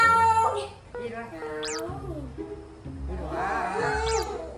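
A cat in a family home meows several times nearby, its cries rising and falling under and between people chatting close by.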